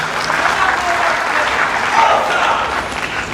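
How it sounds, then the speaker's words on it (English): An audience claps throughout a university inaugural lecture, producing dense, sustained applause from a crowd that stays steady and fairly loud. "I thought you would clap for yourself."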